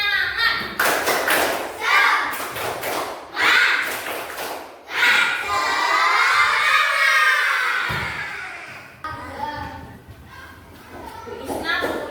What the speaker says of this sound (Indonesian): kita biar bersemangat, kita tepuk semangat dulu ya. Tepuk semangat.